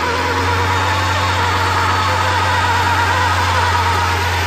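A car engine runs at a steady, close idle with a constant low hum and a dense mechanical drone, after a jump start to revive its drained battery.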